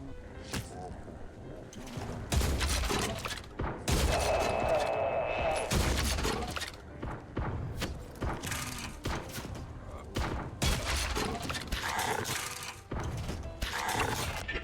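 Enemy mortar fire and explosions in the shooter game Forgive Me Father 2: a dense run of booming thumps, blasts and mechanical clatter keeps going throughout, with heavy low-end impacts and rattling gunfire layered together.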